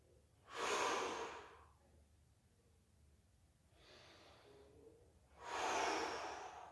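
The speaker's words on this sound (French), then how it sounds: "J'essaye de bien respirer, faire des grandes inspirations en gonflant la poitrine." Deep, slow breaths during a back stretch: two long loud inhalations or exhalations with a softer breath between, close and alone, no talking.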